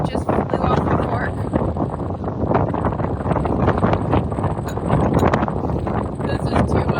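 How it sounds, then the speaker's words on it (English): Strong, gusty wind on a rugged Eyre Peninsula coastline buffets the microphone in a loud, continuous roar that swells and eases in waves, with no pause for the full stretch. "It is so windy"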